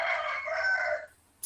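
A rooster crows once, loud and close, a single drawn-out call of about a second that cuts off into quiet.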